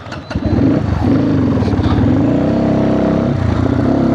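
Motorcycles riding along a mountain road near the China border, engines droning loudly and steadily up close with a continuous low rumble throughout.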